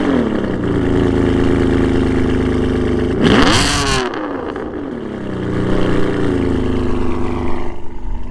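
A Ferrari 599 GTB's V12 cranks and fires with a loud burst, then settles into a deep, steady idle before blipping up again, heard close and alone.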